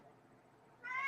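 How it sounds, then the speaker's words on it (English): A pet cat named Tiger Bear lets out a single loud, short meow at the very end, following a second of quiet indoor room tone. "That's my cat. He's very loud."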